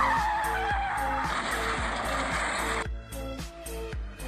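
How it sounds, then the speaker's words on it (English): A car screeches and skids in a comedy skit, tires squealing loudly over a rhythmic thumping beat, then a few dull hits as the screech cuts off. "You got hit by a car"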